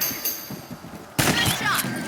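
Gunfire from hunting rabbits in Red Dead Redemption, a few dull thumps followed by one sharp, loud shot with a crashing burst and ringing tail, with a voice heard briefly.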